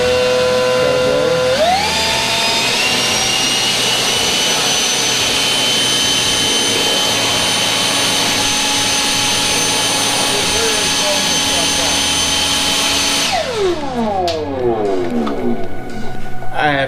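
A Dewalt DCBL772 60V FlexVolt cordless leaf blower spins up to a loud, steady high-pitched whine. It holds at full power for about twelve seconds, then its pitch falls away as it shuts down.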